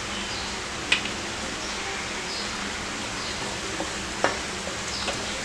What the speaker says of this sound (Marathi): 2 चमचे तेल घेतलंय, जिरं घालूया,